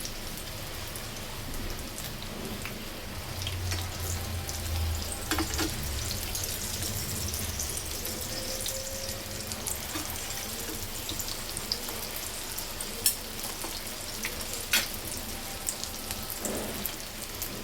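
Veg burger tikkis frying in a pan until crispy, a steady broad hiss of sizzling oil with soft crackles running continuously throughout, no voices.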